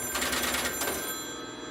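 An old 1957 crank telephone rings its bell in a bright metallic trill, a couple of quick rattling bursts that then ring out and decay, fairly close and alone without talk.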